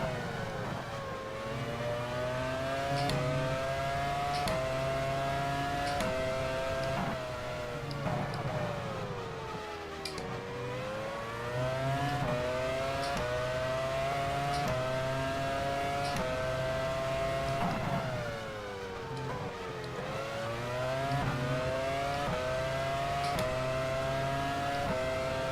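Formula One cars in F1 Challenge '99-'02 at San Marino accelerate out of the final chicane, engines rising and falling in repeated revving sweeps as several cars pass, loud and continuous with no talk.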